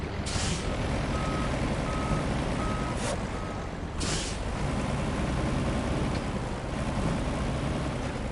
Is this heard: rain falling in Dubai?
no